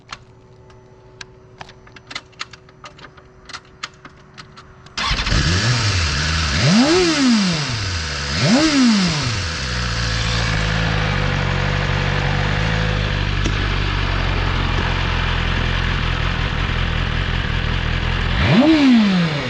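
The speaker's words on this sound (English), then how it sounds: "This BMW engine, they have really made it much more powerful than before." A BMW S1000RR M package motorcycle starts up with a loud roar, blips its revs in several sharp rising and falling bursts, then settles into a steady, throbbing idle before one last rev, close by and with no talking.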